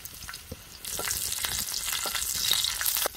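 Garlic hits hot oil in a pan, about two spoonfuls, and after a brief quieter start a loud, close, bright sizzle bursts up and holds steady, with a few small pops and stirring taps.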